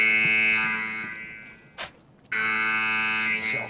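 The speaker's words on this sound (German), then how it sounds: "Irgend so ein Knaller hat diesen scheiß Alarm angemacht" Loud harmonic electronic alarm blaring in the video game Escape from Tarkov, sounding in two long sustained bursts split by a short gap with a brief tone in between.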